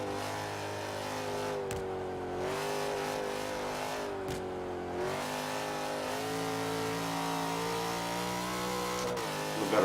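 A tuned car in a racing video game accelerating hard, its engine revving up through gears with brief dips at each shift, a sustained close whine of harmonics rising and settling across the run.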